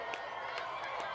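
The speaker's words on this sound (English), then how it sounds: "And the crowd goes wild" Crowd cheering and calling out during the 2024 total solar eclipse, a broad, steady wash of many voices outdoors with a few louder shouts standing out over the roar.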